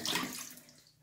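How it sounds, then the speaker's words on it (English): A vintage-style toilet's flush, heard as a short, quiet burst of rushing water that fades quickly over about a second. "But here's the last flush."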